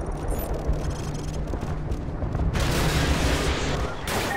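Dense, continuous gunfire and heavy explosions fill a Call of Duty Modern Warfare 2 battle, loud and sustained with bursts of rattling shots and a sudden surge of blasts partway through.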